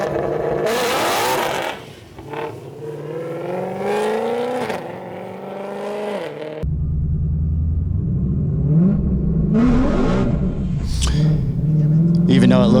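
A Shelby GT500 track pack car spins its tires with wheel hop, sending a loud, roaring rev with juddering rumble and rising engine whine, then a second hard launch at a drag racing event, heard close and loud.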